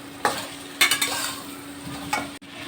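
Raw mango pieces are stirred and fried in a pan for a Kairiche lonche pickle, with a steady sizzle and a few scraping strokes of a spoon against the metal.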